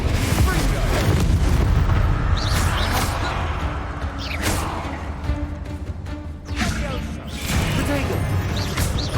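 Fiery blasting spell explosions in the Hogwarts Legacy video game, several loud booming bursts with crackling debris over a deep rumbling low end, with game voices talking between blasts.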